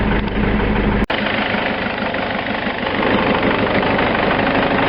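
An Isuzu 4JX1 diesel engine idles steadily with a low, slightly uneven rumble and mechanical vibration after injector sleeve repair, continuous throughout with one brief cut near the start.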